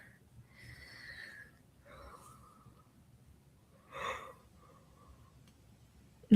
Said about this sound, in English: Okay, officially I just yawned on the camera.